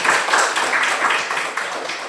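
Young pupils in a classroom clap for a classmate, a steady, fairly loud patter of many hands that pulses in uneven waves for a couple of seconds with no talk over it.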